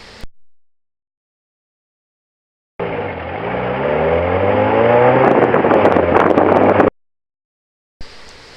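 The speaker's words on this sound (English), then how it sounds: "Our first acceleration trial is with one person for 150 feet." A vehicle carrying one person accelerates over 150 feet, reaching about 31 mph. Its engine note climbs steadily in pitch and loudness for about four seconds, with brief silence before and after.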